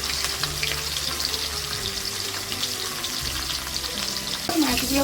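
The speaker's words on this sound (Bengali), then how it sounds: "মাছ ভাজার জন্য কড়াই তেল দিয়ে দিচ্ছি তেল গরম হয়ে গেছে মাছ ছেড়ে দিচ্ছি" Katla fish pieces sizzling and frying in hot oil in a wok, a steady close crackling hiss throughout with a brief louder clatter near the end.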